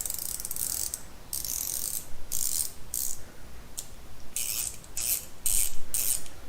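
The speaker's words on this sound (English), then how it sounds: "But it's a 58 tooth ratcheting mechanism." A precision screwdriver's fine 58-tooth ratchet clicks in short bursts of rapid, crisp ticking separated by brief pauses, close and fairly faint, with no voices.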